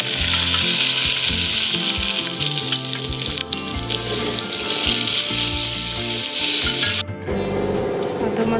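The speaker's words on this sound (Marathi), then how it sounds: "आता हे सर्व आपण मस्त कुकरमध्ये परतून घेऊयात" Mutton kheema masala sizzles steadily in hot oil inside a pressure cooker, a dense continuous frying hiss close up that breaks briefly near the end.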